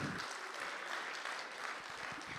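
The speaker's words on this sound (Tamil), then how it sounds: "ஒரு பெரிய கைத்தட்டல்" An audience applauds before a dance performance of Tamil hit songs, a faint, distant wash of many hands clapping that holds steady for a couple of seconds with no voices on top.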